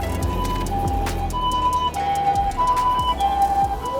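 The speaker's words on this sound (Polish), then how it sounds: "O, o, karetka jedzie." An ambulance siren wails nearby, its rising and falling tones sliding as it passes, over steady traffic rumble; no talking.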